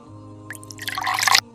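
Water splashing and dripping during wudu ablution outdoors in Kashmir, a soft patter that builds into a denser close splash for about a second before stopping, over a low steady background hum.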